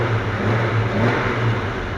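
A Jeep engine fitted with upgraded 12-port fuel injectors runs steadily and loudly close by, a continuous rough drone with slight pulsing and no voices.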